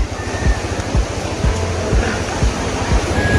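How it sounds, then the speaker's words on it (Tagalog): Strong rushing floodwater, a loud broad roar with rhythmic surging pulses, close and continuous with no talk. "Ang lakas ng ng tubig. Grabe. Paano tayo makakadaan dyan"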